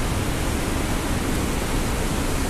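Waterfall hidden in the Swiss mountains at Rochers de Naye, water wearing at the rock: a steady, loud broadband rush of falling water, continuous and unbroken with no voices.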